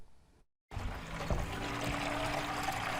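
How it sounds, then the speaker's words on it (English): Water pouring into buckets at a fire department, a steady rushing trickle that starts abruptly after a short gap and keeps flowing evenly, close by. "Water is being put into buckets at the Williamsburg Fire Department"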